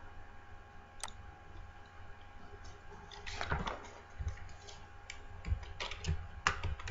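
Computer keyboard being typed on, a quiet scattering of small clicks that bunches into a few quick bursts of keystrokes midway and near the end, over faint room hum.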